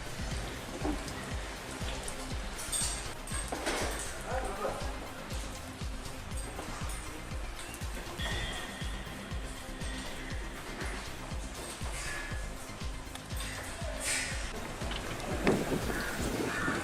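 Steady rain falls at the Ooty boat house, a dense, even hiss of drops spattering on surfaces that continues throughout without a break.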